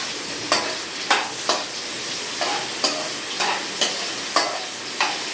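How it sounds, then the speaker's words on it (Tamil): Chopped onions sautéing in a hot pan until browned for a home-style chicken kolambu, a steady sizzle broken by a regular series of spatula stirs and scrapes, close up and with no talking. "இந்த ஆனியன் வந்து ப்ரௌன் கலர் ஆகிற வரைக்கும் கொஞ்சம் வதக்கணும்"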